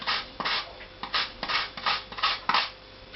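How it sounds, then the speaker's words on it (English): Chocolate grated over a berry compote gives repeated dry rasping strokes, about eight steady rhythmic scrapes close up, with no talk. "I'm just going to grate on a little bit of chocolate"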